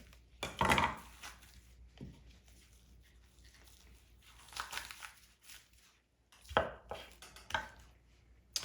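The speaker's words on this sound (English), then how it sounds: "I want to take my knife, I want to go all the way down, and I want to try to pull this apart as much as I can." A knife cuts down through smoked beef brisket for burnt ends, followed by tearing and pulling of the meat by hand, giving quiet close scraping, squelching bursts separated by near-silent gaps.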